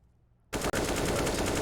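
AK rifle fire in Counter-Strike on the Mirage map rings out as a sudden loud automatic burst after a moment of near silence, with a split-second gap, then a sustained rapid volley, up close and no talking.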